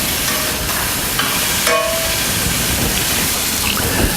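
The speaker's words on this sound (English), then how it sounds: "So I'm cooking the Jimmy Dean sausage" Jimmy Dean sausage frying in a skillet gives a steady, loud broadband sizzle that runs unbroken throughout, with a brief tonal clink near the middle.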